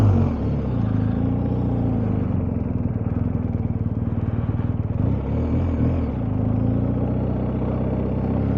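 BMW R1250GS motorcycle pulling away after refuelling, its engine a steady, fairly loud rumbling drone with a faint rhythmic pulse, swelling slightly as it rides off.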